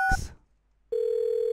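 A short electronic beep, a pause, then a steady telephone dial tone hums on alone, clear and close, in the video game Thimbleweed Park.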